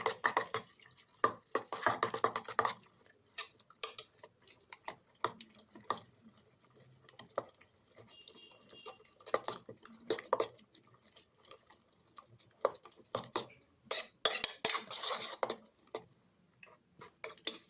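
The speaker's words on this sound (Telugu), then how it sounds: "అలాగే తురిమి పెట్టుకున్న క్యారెట్, అలాగే కొద్దిగా కొత్తిమీర వేసుకొని దీన్ని అంతా నీట్గా మిక్స్ చేసుకుందాం" Spoon clinking and stirring through omelet egg batter with grated carrot, green chili and a little coriander in a bowl, quiet, close and irregular, with scattered taps and scrapes over about eighteen seconds.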